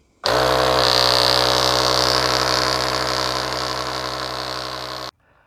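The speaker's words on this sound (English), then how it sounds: "press and hold the pump button for 3 seconds and it'll turn on" A Nexpow AP1 portable air compressor pump switches on and runs for about five seconds. It makes a loud, steady electric motor hum with a buzzing vibration that stays even, then cuts off abruptly.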